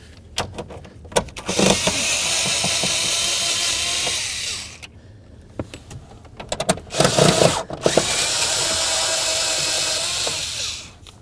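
A power tool spins a bolt out of a 1994-2004 Chevy S-10 steering column in two sustained whirring runs of about two seconds each, close and loud, broken up by clicks and handling noises.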